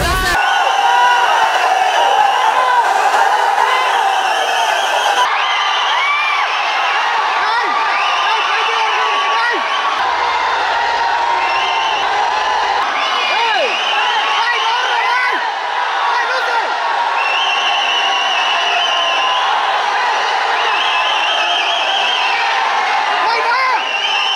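A large crowd at the Thangalan film audio launch roars, whoops and applauds for director Pa Ranjith, a loud, continuous wall of cheering and yelling that swells early and stays dense for over twenty seconds.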